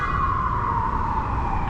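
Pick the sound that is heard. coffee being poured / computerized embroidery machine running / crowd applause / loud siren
loud siren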